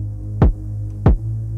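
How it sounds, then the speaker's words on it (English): A soloed kick drum and bass from a beat being mixed: two deep, punchy kick hits about half a second apart over a steady low bass drone, close and loud with no voices. "Let's solo the kick and the bass."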